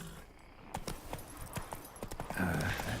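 A horse's hooves clip-clop quickly and closely across the ground in the video game Witcher 3, a run of sharp rhythmic beats that steadies into a gallop, with faint game ambience underneath.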